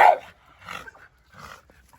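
Bully breed dogs playing, giving a loud opening bark followed by several softer, scattered grumbles and low barks spaced through a quiet room.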